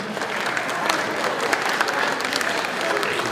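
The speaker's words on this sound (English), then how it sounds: "That gets a round of applause." An audience at a live performance breaks into a round of applause, a continuous, even crowd clapping with a few sharper claps standing out, moderately loud throughout.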